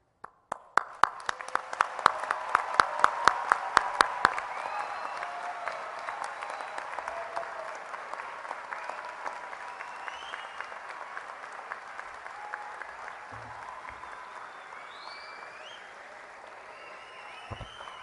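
Sustained applause from a large audience honoring graduates at a university college winter commencement ceremony, starting with sharp, distinct claps that merge into a dense, steady wash of clapping gradually easing off over about eighteen seconds.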